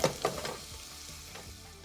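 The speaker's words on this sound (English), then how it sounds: "While waiting for the asparagus and the green beans to cook" Asparagus and green beans frying in a pan with peppers and salt, a steady close sizzle with a few sharper crackles at the start, no voices.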